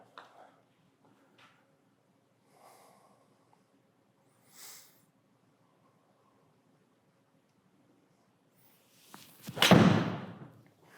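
A golf ball is struck with a Caley O1CB iron: one sharp, loud impact crack near the end, after a long stretch of near silence broken only by faint small knocks.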